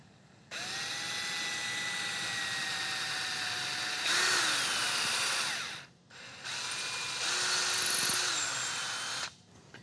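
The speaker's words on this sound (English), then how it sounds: "when you're drilling through this long of a piece of wood or thick of a piece of wood" A power drill whines steadily as it bores through a long, thick piece of wood in two long runs, its pitch dropping under load, separated by a brief pause.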